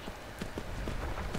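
Rhythmic hoofbeats clip-clop in a quick, steady pattern over a dense rumbling background, a horse galloping in the video game Skyrim.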